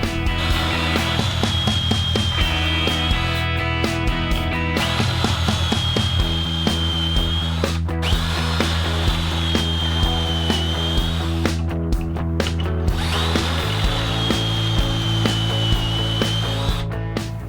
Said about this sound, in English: So to do that, I just clamp everything in place and drill my pocket holes.